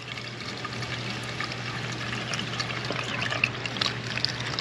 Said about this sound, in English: Make a whole video about adding washer fluid.